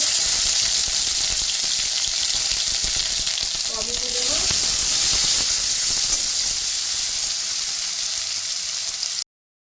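Ginger fries in hot oil with cumin for a vegetable khichdi, a loud, continuous close-up hiss and sizzle with a brief stirring scrape midway, cutting off abruptly at the end.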